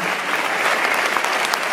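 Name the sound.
audience applause for sound and light technicians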